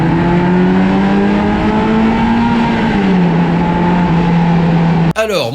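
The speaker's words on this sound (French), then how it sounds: "quel plaisir de rouler avec le son du V8 dans le dos" A Ferrari Mondial's V8 drones loud and steady from inside the car while cruising. The pitch rises slightly, then settles lower, before a sudden cut at the end.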